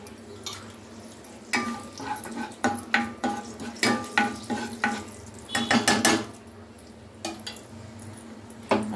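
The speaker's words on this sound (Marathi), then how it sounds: "आधी आपण खडा मसाला टाकून देऊया।" Whole spices frying in hot oil, a continuous sizzle broken by dense bursts of crackling pops and quick spoon scrapes against the pan, loud and close, easing briefly near the end.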